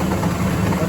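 A 270-horsepower tractor engine laboring steadily as it pulls a heavy load up a wet hill during ploughing, a continuous loud, low droning rumble with no pauses.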